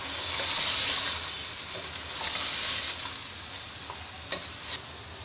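Chicken being mixed with crushed red chilli, salt, black pepper, ground coriander, turmeric and yogurt in a karahi, giving a steady close sizzle with soft wet stirring scrapes and a couple of brief clinks near the end.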